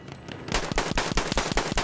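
Semi-automatic rifle fire in the World War I shooter Battlefield 1, a rapid run of sharp, punchy shots in close succession that begins after a short quiet lead-in and continues loud and near.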